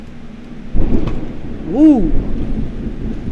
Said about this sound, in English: It's starting to thunder.